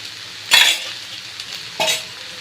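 Okra frying with a spoon of ginger-garlic paste in a pan, soft sizzle beneath two brief scraping stirs of a utensil, close and without speech.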